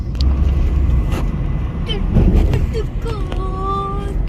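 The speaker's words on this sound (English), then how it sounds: "Mummy drive कर रही है।" Interior road noise of a car driven by a mother on the way to a stadium: a steady engine and tyre rumble throughout, with a few brief tonal squeaks near the end and no clear talk over it.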